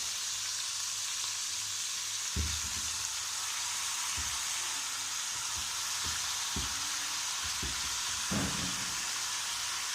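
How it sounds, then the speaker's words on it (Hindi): Aloo methi saag cooking in a hot pan, a steady broadband sizzle throughout, with several soft knocks of stirring scattered across the sizzle and no talk. "अब हम इसमें ये साग डालेंगे"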